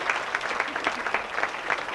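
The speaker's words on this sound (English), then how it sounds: "How about giving a big round of applause for being such a great group" An audience at a hypnosis comedy show claps in steady, dense applause, close and continuous for a couple of seconds.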